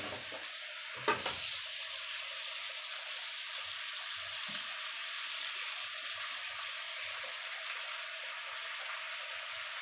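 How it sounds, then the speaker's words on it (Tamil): Garlic sautéing in a pan for a pepper garlic kuzhambu, a soft steady frying hiss with a couple of brief clanks from a spoon against the pan, fairly faint and without voices. "நல்லா பொன்னிறமாக வர வரைக்கும் வதக்கி விட்டுக்கலாம்."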